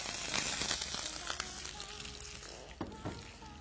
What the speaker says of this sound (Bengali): আমার ঘি তেল গরম হয়ে গেছে, আমি এখন এটাতে পেঁয়াজ কুচি দিই।